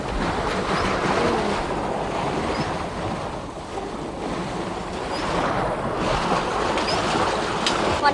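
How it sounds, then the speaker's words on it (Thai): Water rushes steadily through a weir and drives a water wheel, a continuous broad roaring wash at close range with no pauses, loud and even throughout with no talk. "น้ำไหลมาแล้วไงครับ"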